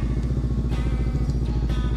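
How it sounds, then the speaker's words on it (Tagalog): A motorcycle engine idles steadily while warming up at night, a close, even low putter with a high idle and no speech. "Medyo pa initi lang natin itong motor."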